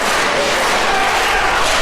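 A crowd of about 200 wrestling fans at a small live event cheers and roars, a dense, loud, continuous wash of voices.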